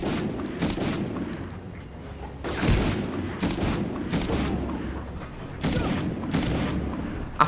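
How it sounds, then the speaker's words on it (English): Enemy rocket launcher blasts and gunfire in the 1999 video game Medal of Honor, with a series of booming explosive bursts and crackling fire coming in rough waves at mid distance, several hits spread across the stretch. "Why do these enemies carry fucking rocket launchers?"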